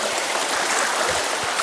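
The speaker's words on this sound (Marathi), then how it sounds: "पाऊस आला जरा, मी छत्री घेऊन येतो" Rain falls outdoors beside a river, a dense, even hiss with a few soft low patters scattered through it.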